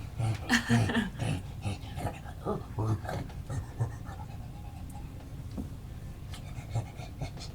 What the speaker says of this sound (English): Pepper's like trying to chase you out too. He needs a last little scratch